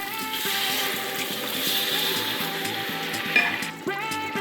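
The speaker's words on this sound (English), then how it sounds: "Add half cup of water." Water is poured into a hot pan of spicy tofu sambal with chili powder and turmeric. A steady sizzle and bubbling run throughout, with a few small clinks near the end.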